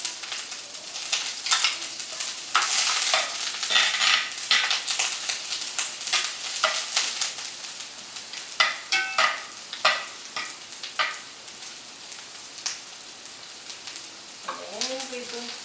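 Onion frying in a cast iron pan, loud crackling sizzle with bursts of spatula scraping and stirring up close, easing to a softer hiss toward the end.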